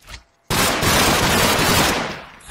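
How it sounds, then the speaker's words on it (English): Rapid automatic gunfire from the Minecraft Flans Mod video game, a loud dense burst of continuous shots lasting about a second and a half before tailing off. "I'm just going to try shooting at the wall."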